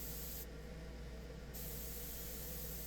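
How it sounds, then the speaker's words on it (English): Lacquer top coat sprayed onto a stained wooden project, a steady loud hiss of spray filling the whole stretch with no talk, the air hiss continuous throughout. "Now I'm spraying my top coat on there."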